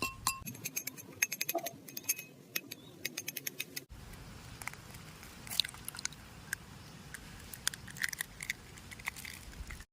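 Cracked eggs are beaten in a bowl with chili powder, coriander powder and a little water for an omelette outdoors on a farm. A spoon makes quick, light clinking taps against the bowl, and no one speaks.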